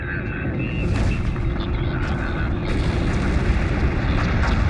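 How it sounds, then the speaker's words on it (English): Orbital surface bombardment in the space strategy game Homeworld Remastered: a continuous, dense roar of rumbling explosions with scattered booms that stays loud throughout, under radio-style voices. "Prepare for immediate surface bombardment."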